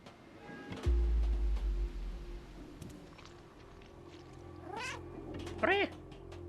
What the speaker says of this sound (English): Loud cat.